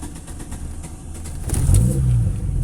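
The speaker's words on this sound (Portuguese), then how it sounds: "Eu vou dar partida no carro" A car running on adulterated fuel cranks and catches, its engine rising into a loud rev before settling back to a rough, uneven idle, recorded close with no talk.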